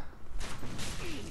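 Heavy crossbow mechanism in Dark Souls 3 makes a couple of sharp mechanical clacks, the second more sustained, against a dense game background.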